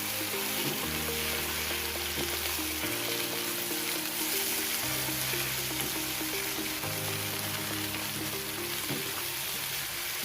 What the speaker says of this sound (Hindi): अब हम इसमें फ्राई की हुई भिंडियाँ डालेंगे। और मिक्स कर देंगे।